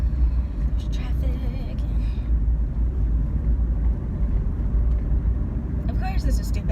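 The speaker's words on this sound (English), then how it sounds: "There's traffic." Road traffic in a jam makes a dense low rumble heard from inside a vehicle, steady and moderately loud, with brief higher rushing noises near the start and end.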